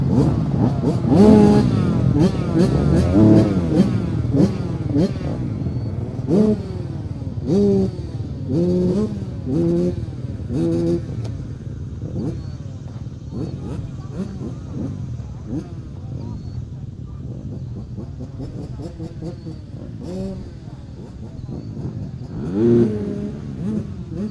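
A motorcycle lapping a race track at a motorsport training camp, its engine rising and falling through gear changes and revving past, heard at moderate distance under steady background noise with people talking.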